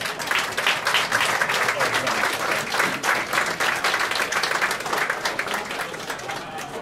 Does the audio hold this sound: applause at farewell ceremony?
yes